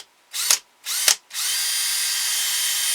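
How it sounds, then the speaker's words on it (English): A power drill whirs in two short bursts, then runs steadily as it bores into wood, a high buzzing whine close by. "we're going to drill a hole for our screw."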